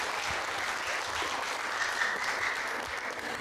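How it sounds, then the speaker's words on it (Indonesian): An evening theatre crowd applauds steadily, many hands clapping in a continuous, moderately loud wash that fills the room without pause. "Boleh tepuk tangan dulu untuk kalian pada malam hari ini"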